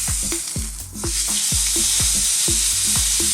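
Coca-Cola and soy-marinated meat on a BBQ grill: a loud, steady sizzle with a repeating pulsing knock underneath, close and continuous, no talking.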